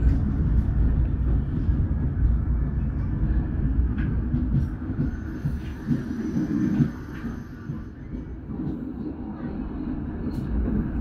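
Passenger train running on track between Depok and Bandung near Andir and Ciroyom, a loud steady interior rumble with rolling wheel noise throughout and faint clanks.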